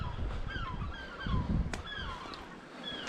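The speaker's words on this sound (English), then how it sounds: "Seagulls up here going" Seagulls call loudly on the rocky Scottish coast at Auchmithie near a sea arch, in a series of overlapping squawks and cries over steady wind and surf noise.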